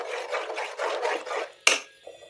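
Sabudana tapioca pearls stirred in a pot, a rhythmic series of gritty scraping strokes followed by a sharp knock of the spoon and a short quiet tail.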